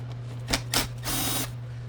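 Screws are being removed from a Denon DJ Prime 4+ controller: a few brief close clicks and a short ratcheting scrape over a low steady hum.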